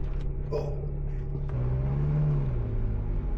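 A Ferrari rolls into a service bay, its engine a steady low rumble with a slight rise in pitch partway through, close and continuous.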